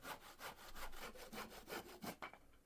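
A handsaw cuts through timber in quick, even back-and-forth strokes, each rasping pass clearly separated, close and fairly quiet, stopping after about a dozen strokes with no voices.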